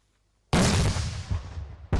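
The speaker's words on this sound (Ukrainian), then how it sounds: "Гранатомети – черговий етап, заряди бойові." A grenade launcher fires a live round during military training, a sudden loud close blast that rolls off into a long echoing boom, followed by the start of another shot.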